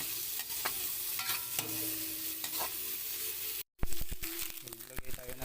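Drunken shrimp being stirred and sautéed in a hot pan: a steady sizzle broken by repeated scraping and clacking strokes, a brief dropout, then busier sizzling with sharper utensil knocks.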